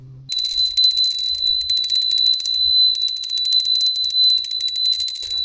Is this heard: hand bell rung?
yes